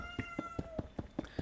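A female house cat meowing at a door to be let outside, seven short, evenly spaced meows in quick succession, close and fairly clear.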